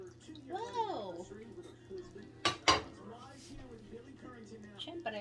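A spoon scrapes and clinks against a metal pot while homemade spaghetti sauce is stirred in a home kitchen, a couple of sharp knocks standing out amid soft stirring, with someone talking over it.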